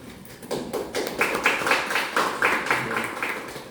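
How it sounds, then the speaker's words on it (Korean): Audience applause rises to welcome the ES Korea chairman to the podium at a National Assembly policy forum, a steady patter of many hands clapping that holds for several seconds. "조준호 이사장님을 큰 박수로 맞이해주십니다"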